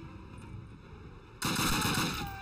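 Loud burst of gunfire from a Call of Duty 1 ship mission, erupting suddenly after a quiet stretch and sustained for about a second, dense and close with no voices over it.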